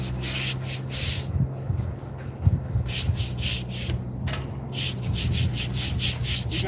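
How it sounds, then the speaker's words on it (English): A brush scrubs algae off an old cemetery headstone in quick, rhythmic rasping strokes, close and steady, with a brief pause midway. "You're going to give it a good scrubbing."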